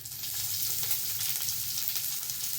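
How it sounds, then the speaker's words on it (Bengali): Chopped onion hitting hot mustard oil in a pan, a steady close hiss and crackle of frying that holds evenly throughout without any voices. "তেলটা গরম হয়ে গেছে বন্ধুরা। এবার দিয়ে দেবো পেঁয়াজ কুচি"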